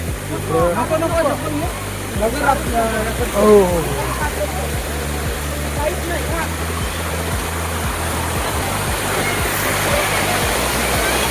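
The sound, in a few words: waterfall at Prabalgad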